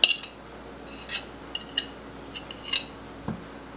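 A utensil scrapes cream cheese into a mixing bowl, producing a series of light, close metallic clinks and taps against the bowl at irregular intervals.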